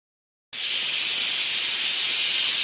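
A pressure cooker boiling potatoes with salt suddenly lets out a sharp, loud, continuous steam whistle after a moment of silence, a steady high hiss that holds without pause.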